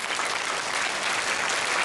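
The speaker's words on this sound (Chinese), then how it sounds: "给他们一个热烈的掌声" An audience at the Puren Award ceremony in Tainan gives sustained, dense applause, a loud, even wash of many hands clapping at once, filling the hall without a break.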